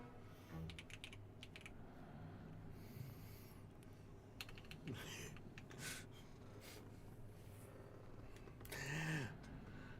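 Keys clatter on a computer keyboard in scattered quick bursts of tapping, close and fairly quiet, with breaths and small noises in between.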